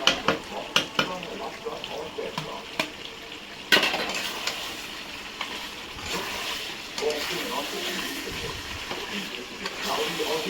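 Chopped tomato goes into a hot pan with a steady frying sizzle, while a utensil scrapes and clinks against the metal in uneven stirring strokes, close and moderately loud, with a sharp knock partway through.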